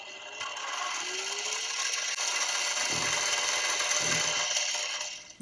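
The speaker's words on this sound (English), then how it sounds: "So now let's do some screw extracting." A milling machine extracts a screw from the body of a vintage Kramer 450-B aluminum-neck bass. The cutter produces a steady, close, grinding whir with a faint rising tone and rough scraping under it, and there is no talking.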